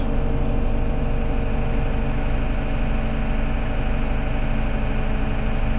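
A John Deere 6210R tractor runs steadily during a transmission calibration, its engine holding a constant low, dense drone at close range with no talking.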